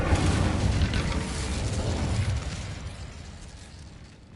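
A roaring burst of Incendio fire magic in Hogwarts Legacy, loud and rumbling at first, then gradually fading away as the flames die down.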